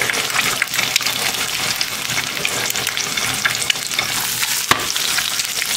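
An over-easy egg fries in a very hot pan for a Spam sandwich, giving a loud, continuous, crackling sizzle that sits close and steady throughout, with one sharp pop near the end and no talking.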